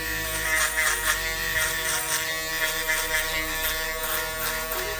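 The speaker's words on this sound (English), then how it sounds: "Then I want to go with my Stylecraft foil shavers." A Stylecraft foil shaver buzzes steadily during a high taper haircut, a close, continuous electric drone with slight wavering pitch as it moves over the scalp, no talking.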